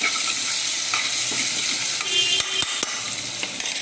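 Green chillies with ginger garlic paste sautéing in a cooker for tomato rice, a loud close hiss of hot oil with a few spatula clinks and scrapes.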